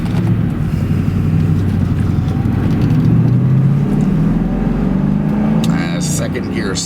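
A 1996 Ford Mustang SVT Cobra with its 4.6 modular V8 pulls hard from a second-gear start, a loud, close, steady engine drone under cabin and road noise.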